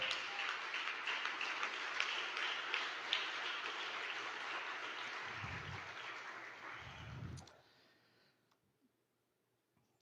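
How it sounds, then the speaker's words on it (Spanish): A church congregation claps in a sustained round of applause with a couple of low thumps, then it stops abruptly into near silence. "Dale un gran aplauso al Señor"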